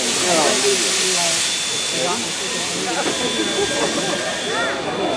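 A steam locomotive starts off after its whistle, with broad steady steam hiss and faint rail sounds running throughout while someone talks over it.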